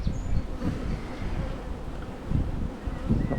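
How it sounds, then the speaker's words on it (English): Honey bees hum and buzz steadily around an open split-box hive during an inspection, a close, continuous drone with small swells in loudness and no talk over it. "Lots of bees."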